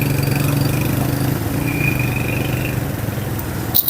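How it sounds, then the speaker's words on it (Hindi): A small motorcycle engine stuck on a rough mountain pass track in northern Pakistan near Kumrat drones and revs steadily, a close, even mid-pitched buzz that eases slightly before a short clatter at the end. "बाइक भी इनकी फंस गई है।"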